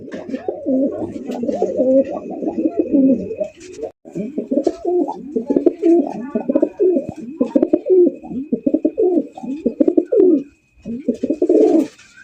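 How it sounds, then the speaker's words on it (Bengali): Pigeons coo continuously in low, rolling murmurs, several birds overlapping nearby, with a faint steady tone in the background. "সোহাগ ভাই জি ভাই ওরে ভাই আজকে তো দেখ প্রত্যেকটা কবুতর ভাই যে ডাক দেয়"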